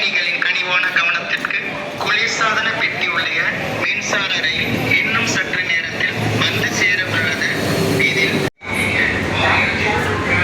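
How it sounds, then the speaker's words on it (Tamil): An air-conditioned EMU suburban train pulls into a station between Mambalam and the next stop, a loud continuous rumble of wheels and carriages with squealing and clatter, steady throughout with a short break near the end, people talking beneath. "நம்ம இதான் இந்த ட்ரெயின் வந்துருச்சு பாருங்கள்."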